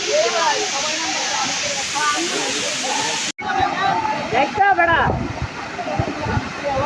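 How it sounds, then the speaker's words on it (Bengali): The Sahasradhara waterfall in the Chittagong hills pours from a hilltop with a steady rushing hiss of falling water. Voices talk over it, and the sound cuts briefly partway through. "এই পাহাড়ের চূড়া থেকে পানি পড়তেছে।"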